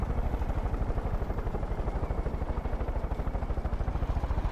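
Helicopter in the video game Far Cry 5, its rotor beating in a fast, steady rhythmic chop with engine drone, loud and continuous, heard alone without voices.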